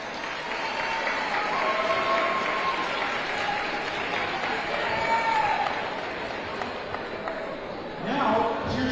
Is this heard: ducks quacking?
no